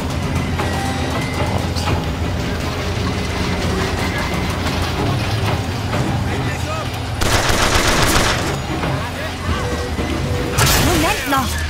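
Gunfire in BioShock Infinite: dense, continuous bursts of shots over a loud game soundscape, with harsher volleys swelling near the middle and end.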